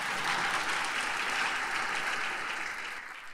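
Applause from a live audience at a touring podcast show, a dense steady clatter of many hands clapping throughout, loud and close, fading slightly toward the end with no voices over it.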